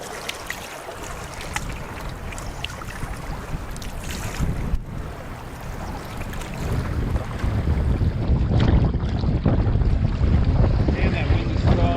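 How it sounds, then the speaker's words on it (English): Strong wind buffets a boat on a big wilderness lake, roaring across the microphone and swelling louder toward the end. Waves splash against the hull beneath the gusts. "Man, that wind is strong."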